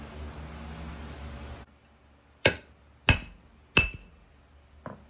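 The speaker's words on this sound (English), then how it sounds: "Get a bigger hammer." Three sharp hammer blows ring on metal at a steady pace, each with a bright metallic decay, followed by a fainter fourth tap after a low background hum cuts out.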